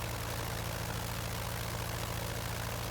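Curtiss Jenny biplane engine in Microsoft Flight Simulator 2020 taxiing on dirt, a steady low propeller drone with a throbbing idle rhythm, loud and continuous without a break.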